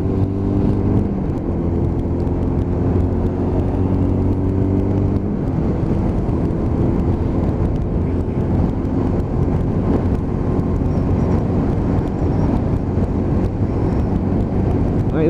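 Lexmoto LXR 125 motorcycle engine holding a steady cruise around 43 mph, a continuous loud drone with a slight shift in pitch partway through and no talking.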